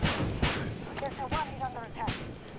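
Sharp booming launches and explosions from rockets in Battlefield 2042 ring out several times in quick succession over a short burst of gameplay, loud and punchy, with a brief whistling tone between them.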